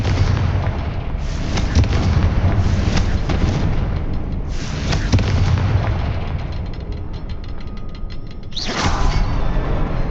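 A Confringo fire spell blasts in the Hogwarts Legacy game with loud booming explosions and whooshing bursts. The sound is dense and sustained for about ten seconds, with a sharp fresh blast near the end and no talk.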